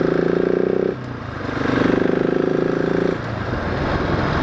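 A 2018 Husqvarna 701 SM single-cylinder motorcycle, its exhaust baffle fitted, runs close by: steady engine drone with two revving surges, then a rougher, lower rumble at the end.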